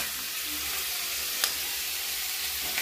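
Chopped watermelon rind sizzling with tomato in a hot pan: a steady, close hiss of frying, with a single sharp click partway through.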